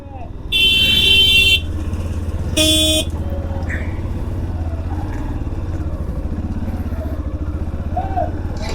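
Motorcycles and traffic aboard a crowded river ferry vessel on a weekend: a steady engine drone throughout, broken by two loud horn blasts near the start, with people talking in the background.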